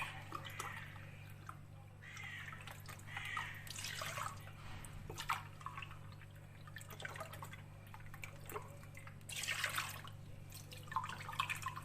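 Three glasses of milk poured into a pot to make the pudding layer for muhallebili kadayıf, heard as soft liquid splashing that swells in two louder bursts over a steady low kitchen hum.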